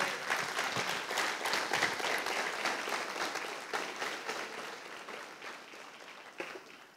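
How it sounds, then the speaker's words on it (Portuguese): A church congregation claps steadily in dense, sustained applause that slowly fades toward the end. "Então você pode aplaudir Jesus?"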